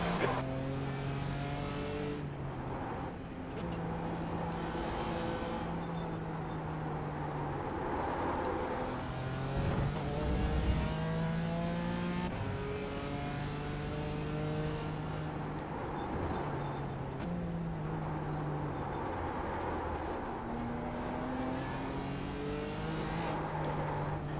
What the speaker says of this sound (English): Okay, Ray, it's a faster class car approaching.